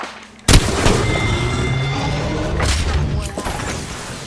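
Heavy gunfire in a first-person shooter game erupts with a sharp boom, followed by a sustained roar of shots and impacts, with a couple of further loud bursts near the end.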